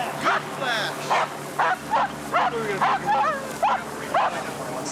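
A police dog barks repeatedly, about nine sharp, evenly spaced barks close by over a low rumbling background.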